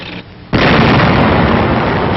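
A tank destroyer fires its gun in World War II combat footage: one sudden, loud blast cuts in after a brief quiet, followed by a sustained roar and rumble.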